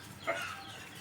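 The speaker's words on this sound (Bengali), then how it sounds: "দাদা ভাই বাজারে গেছিল দুইটা মুরগি আনছে আমাদের জন্য" A chicken from a village market gives a single short, faint cluck close by against quiet background noise.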